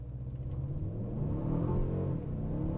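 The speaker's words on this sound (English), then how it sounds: "we're gonna start off with a little launch here and just see what happens" A 2021 Mercedes CLA 250 launches from a standstill, its engine note climbing steadily in pitch as it pulls away, heard fairly faint from inside the cabin.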